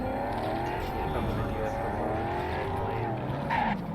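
A car drives through Cyberpunk 2077 with a steady engine drone whose pitch rises and falls as it accelerates, continuous and fairly close, with a brief higher whine near the end.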